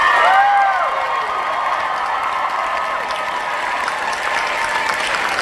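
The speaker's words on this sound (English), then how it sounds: "Once again, a round of applause for us." Crowd applause and cheering at a live Baldur's Gate 3 cast D&D show at DragonCon, a steady moderately loud roar of clapping with a few whoops rising over it at the start.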